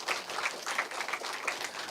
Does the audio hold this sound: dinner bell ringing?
no